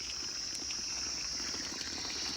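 Drinking water runs from a village tap into a container, making a steady, even rushing stream that stays constant at moderate loudness throughout, with no voices.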